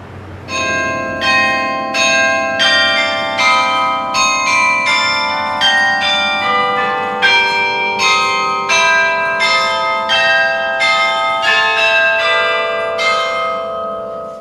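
A church bell cast by the Buckeye Bell Foundry rings loud and clear, its strikes overlapping in a steady sequence while long bright tones hang and decay beneath each new stroke.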